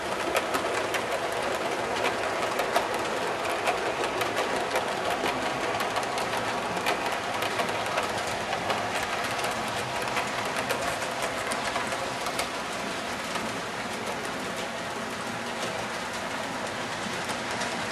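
An HO scale model Northwestern freight train runs around a layout, giving a steady, continuous rolling clatter with a faint metallic rattle that stays at an even level throughout, with no voices.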